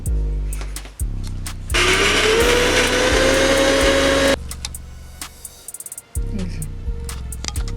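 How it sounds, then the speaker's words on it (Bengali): A kitchen mixer grinder coarsely grinds green peas for kochuri filling in loud whirring bursts, with a sharp motor whine rising in one long run, then short pulses and brief pauses. "আগে মা কাকিমারা শিলে বাটতো, এখন আর শিলে না করে আমরা মিক্সিতেই করে নিই। তো খুব মিহি করবো না, একটু দানা দানা থাকবে।"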